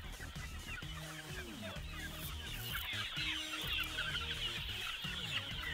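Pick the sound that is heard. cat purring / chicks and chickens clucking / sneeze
chicks and chickens clucking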